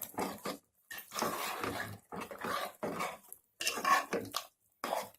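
Raw banana curry being stirred with tamarind paste dissolved in warm water, a spoon scraping and clinking against the cooking pot in irregular bursts separated by short pauses.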